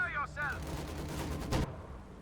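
Machine gun fire rattles through a Company of Heroes 2 battle, a dense stream of gunfire and distant bursts with a louder crack of fire near the end, while a voice talks over it.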